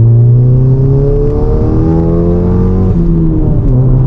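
A 500bhp Golf GTI pulls hard through the gears, its loud engine note climbing steadily with a brief dip at a gear change, close and continuous with no talking.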